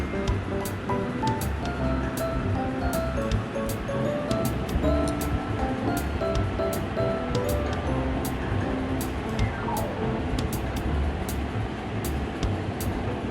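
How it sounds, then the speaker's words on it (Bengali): Grated onion sizzles steadily in hot oil in a pan as it is stirred, a continuous frying hiss with small scraping clicks throughout, close and moderately quiet. "পেঁয়াজটা তেলের মধ্যে দিয়ে দিয়েছি দিয়ে আমি ভালো করে নাড়াচাড়া করে নিচ্ছি"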